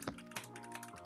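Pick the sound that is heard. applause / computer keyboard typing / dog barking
computer keyboard typing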